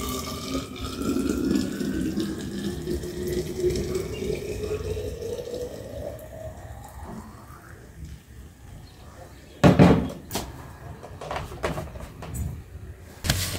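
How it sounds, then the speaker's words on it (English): Freshly boiled water pours into a thermos, a gurgling stream whose pitch rises steadily as the flask fills, followed by a few sharp clicks and clatters of the lid and cup. "Water is boiled. Let me put it in a thermos,"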